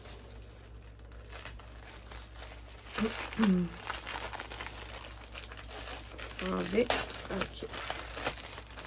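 Crinkling and tearing of plastic wrapping as a small coupon of Aida 18 count cross-stitch fabric is opened, in two bursts under soft talking.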